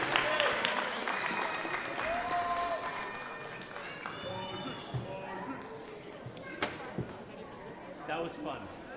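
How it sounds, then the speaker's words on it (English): After a middle school wind ensemble's spring concert, an audience claps while voices chatter and call out nearby, the applause fading and thinning as people talk, with a few sharp knocks and thumps near the end. "Give them another big round of applause, please."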